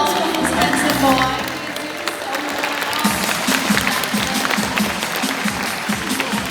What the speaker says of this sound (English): how about a round of applause for this handsome boy?